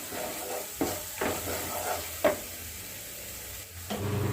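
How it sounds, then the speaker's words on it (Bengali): Ground red chilli powder stirred in a hot pan of frying spices for Kashmiri aloo dum, with a soft steady sizzle broken by several sharp scrapes of the spoon. "এটা ভালো করে একটু নেড়ে দিচ্ছি"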